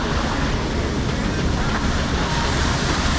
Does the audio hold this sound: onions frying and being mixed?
no